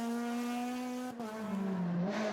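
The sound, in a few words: Honda Civic rally car racing on a special stage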